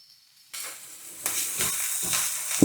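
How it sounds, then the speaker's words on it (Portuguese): Onion hits hot oil in a pan for a Japanese-style ground beef curry: after a near-silent moment, a sudden close sizzle erupts and keeps crackling, with stirring scrapes swelling the hiss. "misturar aqui um pouquinho no óleo"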